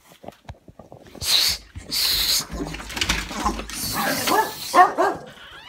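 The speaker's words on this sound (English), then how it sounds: "I just like to record my dogs." Several dogs, male, bark in short sharp bursts and yips close by, with whimpers and scuffling between the barks, indoors and fairly loud.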